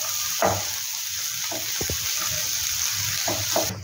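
Onion, cashews, green chillies and garlic fry in a pan for egg malai curry, a steady close sizzle with a few soft stirring scrapes and clinks, no talking.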